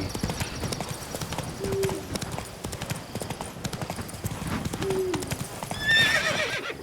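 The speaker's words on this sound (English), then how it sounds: "He's a forlorn horse just looking out over the sea." Roach, a horse in The Witcher 3, clip-clops at a steady close gait and whinnies a few times, with a louder snorting neigh near the end over a soft game ambience.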